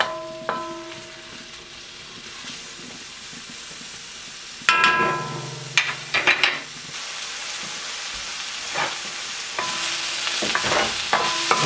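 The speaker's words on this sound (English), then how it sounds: "we're going to just stir these up really good, get them coated with that oil, and let them cook down" Vegetables stirred and sautéed in oil in a pan during cooking of spiced red lentils, with a steady soft sizzle and a few scraping stirs and utensil knocks, no talking.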